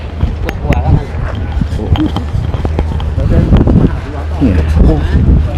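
Strong wind buffets the microphone at an outdoor secondhand market selling motorcycle parts and tools, a rough low rumble that swells and gusts throughout while people talk nearby.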